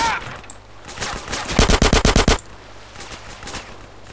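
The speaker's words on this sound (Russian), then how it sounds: "Вот эти вот чуваки на крыше вроде как на моей стороне, но по-моему они стреляют в меня." Machine gun fire in the video game GTA San Andreas: scattered shots, then a loud, tight burst of about eight rapid rounds, followed by more sporadic distant gunfire.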